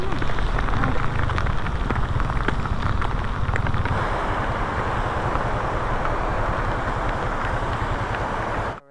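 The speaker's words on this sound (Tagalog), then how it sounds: "Grabe ka ulan dito guys." Steady, heavy downpour roaring continuously, dense broadband hiss of rain pounding surfaces close by, with faint voices underneath.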